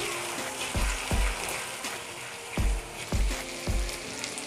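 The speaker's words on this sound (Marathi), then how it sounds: "त्याला आपण ना कांदा लालसर होईपर्यंत आणि टमाटर ना एकदम असं नरम होईपर्यंत आपण याला तेलावरती छान भाजून घेऊ" Onion and tomato fry in oil for a Maharashtrian dried bombil and potato dish, making a dense, steady sizzle up close with repeated low thumps and scrapes of stirring, and no talking.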